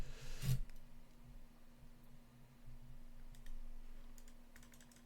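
Sparse clicks of a computer keyboard being typed on, faint and intermittent over a steady low electrical hum, with a louder bump near the start.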